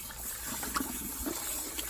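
Lukewarm water running from a tap while hair extensions are washed, a soft steady trickle and gush close by with faint splashes, no talking.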